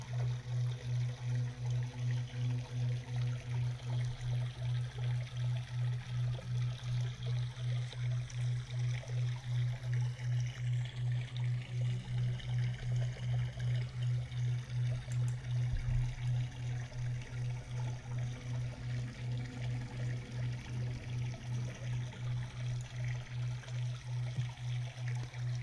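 Flowing stream water, a soft continuous trickle and babble under a steady low pulsing hum, faint and unchanging for the whole stretch.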